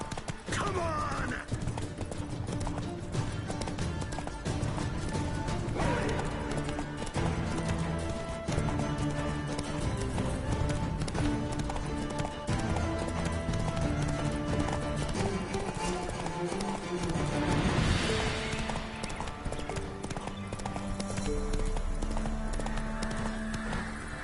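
A horse gallops in The Witcher 3, its hoofbeats drumming steadily over game music and ambience, moderately loud throughout.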